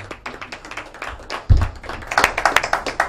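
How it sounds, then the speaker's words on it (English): A band applauds for itself onstage at a talk show, a burst of hand claps starting sparse and quickening into a ragged, fairly close round of clapping. "I really love a band that applauds for itself"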